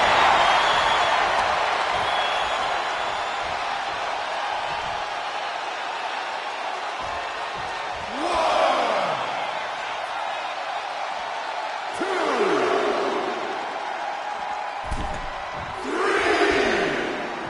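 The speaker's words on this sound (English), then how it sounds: "you hear this capacity crowd following you on that journey" A capacity arena crowd roars through a women's wrestling match in the WWE 2K25 video game. The steady crowd noise swells into several louder surges, with a commentator's voice talking over it.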